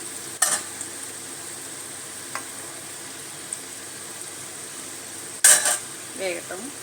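Murukku frying in hot oil, a faint steady sizzle throughout with two sharp clatters of a metal ladle against the pan and some quiet stirring noises.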